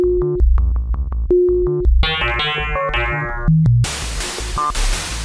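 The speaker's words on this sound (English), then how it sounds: "Now I'm going to bring the drums in alternating." Electronic synthesized drum hits trade places with a wavetable formant synth, bright gliding vowel-like tones sweeping down in bursts before a noisy drum-heavy stretch, all clear and up front with no voices.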